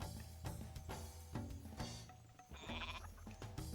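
Game goat bleats from Age of Mythology repeat over a busy, loud mix of percussive effects and music, with no talking.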